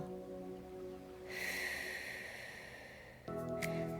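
A slow, audible exhale during a guided breathing exercise: a soft, breathy rush of air lasting a couple of seconds over a faint hum, with no talking.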